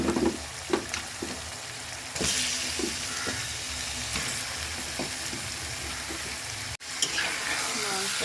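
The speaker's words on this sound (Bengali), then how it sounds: "কষানোর পরে এখন আমি মাংসগুলো দিয়ে দিচ্ছি।" Chicken pieces added to frying spice paste for bhuna khichuri sizzle steadily in the pot, with scattered stirring clinks and a sharp knock, moderately close.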